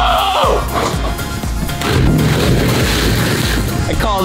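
A cannonball jump slaps into a backyard swimming pool with a heavy boom, followed by a few seconds of churning splash and water settling, with brief cheering voices.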